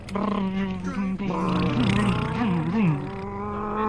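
A person imitates a motorcycle engine in a VR travel game, making a loud, buzzing, rumbling drone whose pitch wavers up and down for several seconds.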